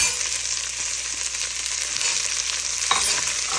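Onions frying and being stirred in a pan for bread upma, a steady close sizzle with soft scraping, no talk.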